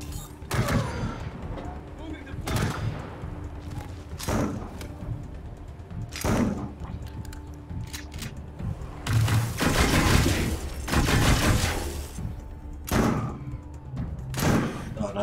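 Wasteland 3 combat has heavy gunshots and thudding impacts landing at irregular intervals, with a dense barrage in the middle and people talking over it.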